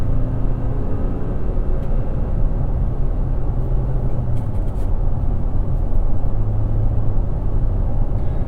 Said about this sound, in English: So I can hear the tires